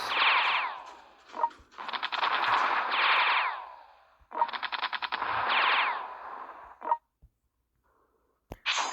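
Gunfire from a World Conqueror 4 strategy game battle, rapid bursts of automatic fire in long loud rattling volleys with short sharp reports between, pausing briefly before another burst at the end.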